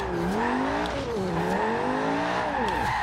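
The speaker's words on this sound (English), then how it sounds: "let you guys hear the exhaust sound." Lamborghini Huracan engine in Forza Horizon 2 revving up and down with rising and falling exhaust pitch, loud and close, ending in a spin-out with tire noise.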